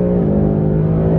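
Ford Mustang GT Premium V8 engine screaming under hard acceleration, a loud steady harmonic roar heard up close and alone, with its pitch holding high for the whole moment.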